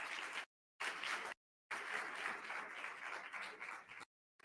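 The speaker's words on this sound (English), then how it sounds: "Give her a round of applause again." Audience at a charter school graduation ceremony applauds in several bursts of dense, quiet clapping, broken by short gaps of silence.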